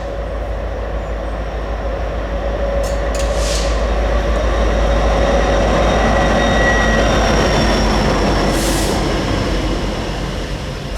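A light set of ACU locomotives blasts past on the tracks in Altoona, Pennsylvania, a loud, steady rumble of engines and wheels that swells and holds close by, with faint higher squeals above.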